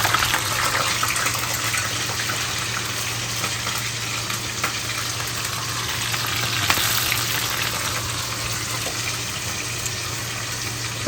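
Bitter gourd pieces fry in hot oil with a dense, continuous sizzle and crackle, loud and close throughout, steady without pauses and no voices present.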